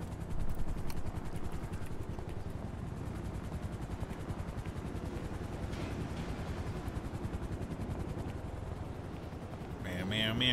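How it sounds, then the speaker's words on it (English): Helicopter in a GTA V roleplay game circling over Legion Square, a steady rotor drone running the whole length beneath a busy game mix with bursts that could be gunfire, with people talking over it. "Helicopter. This is the same one that kind of like roams around Legion Square."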